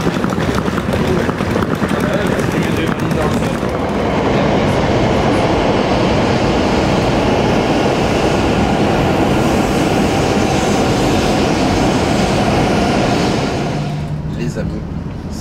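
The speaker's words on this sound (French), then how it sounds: "ça y est, on est dans le Shinkansen, direction Tokyo" A steady, loud roar of a Shinkansen bullet train travelling toward Tokyo, heard from inside as a dense rumbling rush that continues throughout before easing near the end. Faint voices may sit beneath it.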